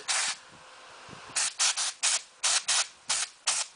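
Compressed air blasts into the vents of an Asus G73 laptop during cleaning, with one long burst followed by a run of eight short, loud, evenly spaced hissing sprays close to the mic.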